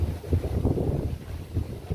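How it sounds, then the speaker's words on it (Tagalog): Strong gusting wind, with rain just starting, blows hard and steadily against the microphone as a low, continuous rumble and buffeting roar. No one speaks. "Ngayon, bigla lang may ulan tapos yung hangin"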